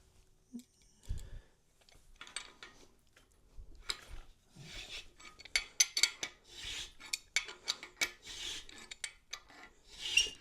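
A hand thread tap cuts threads by hand for screw-in core plugs in a small block Ford, producing a series of quiet, close rasping and scraping strokes in an uneven rhythm, growing busier toward the end.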